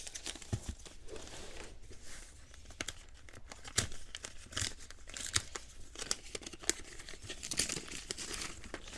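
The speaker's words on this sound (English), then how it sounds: "let me go ahead and unwrap these" Little paper wrappings around manga volumes crinkle and tear steadily, with close, continuous rustling and ripping and no talk.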